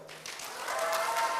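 Audience applause builds steadily and fills the room at a People Power Party primary debate for Tongyeong mayoral candidates, a dense crowd clatter growing louder over its short span.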